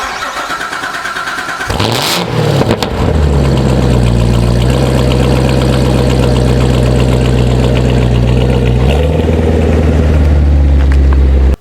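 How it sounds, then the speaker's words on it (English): Chevrolet Corvette 6.2 liter V8 cold start: a starter cranks briefly, then the engine fires with a loud bark and settles into a deep, steady, high fast idle, close to the microphone with no talking, before a final rise in revs. "it's a Corvette cold start"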